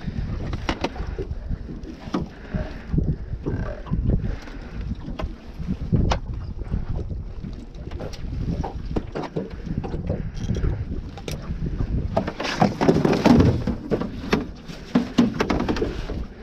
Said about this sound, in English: This wind is driving me crazy.